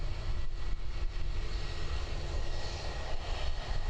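An Air New Zealand ATR 72-600 turboprop takes off from Christchurch Airport, its engines a steady, moderately distant roar with no voices over it.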